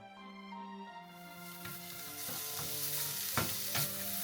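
Vegetables and pork stir-fry in their own rendered fat in an iron frying pan, with a steady close sizzle and scattered scraping and tossing clicks building through the clip.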